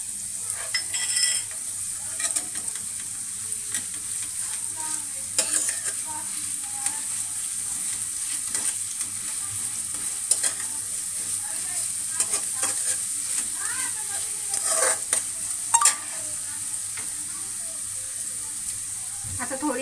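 Ginger garlic paste and onion sauté in a pan with a continuous bright sizzle, a few louder stirring clicks and bursts throughout, and a faint voice at times.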